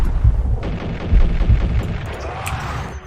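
Gunfire in the video game Max Payne, a rapid burst of heavy, booming shots at the start and again mid-clip, loud and close, trailing off into scattered debris and impact sounds.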